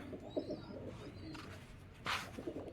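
Soft pigeon coos come in low, brief bursts at a distance, with a faint bird call and light outdoor noise around them.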